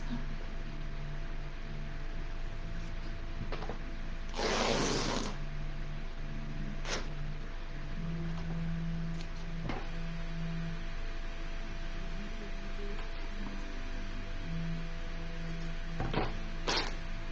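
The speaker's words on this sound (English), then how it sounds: "So ripping your fabric, I even do this in sewing. I rip my fabric" Woven fabric is ripped by hand for a Christmas hat, giving one sharp broadband tear lasting about a second, followed by a few short snaps, all over a steady background hum.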